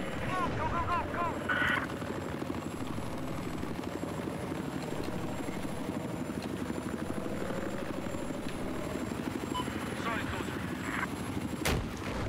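A helicopter in the video game Battlefield 4 whirs steadily throughout amid combat noise, with gunfire bursts and a sharp blast near the end, while a player talks over it.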